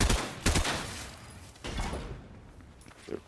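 Gunfire in Fortnite as a player shoots something down: a cluster of sharp, close shots at the start, then further scattered bursts and thuds that fade toward the end.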